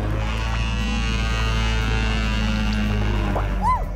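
A cartoon Parasaurolophus bellows through its hollow crest, a deep, droning horn-like call that holds loud and steady for nearly four seconds, with faint whooping sound effects near the end.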